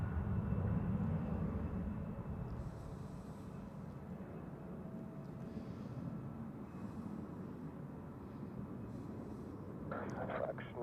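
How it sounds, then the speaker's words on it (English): A Turkish Airlines Airbus A321neo lands on runway 14 at Zurich Airport in crosswinds, heard as a low, steady rumble at a distance that stays faint and continuous, with a voice talking quietly over it. "just landed on runway 14, Turkish Airlines with an A321 Neo from Istanbul"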